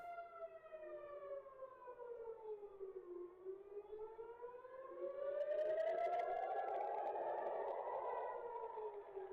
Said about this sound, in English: Sirens going off all over Tel Aviv.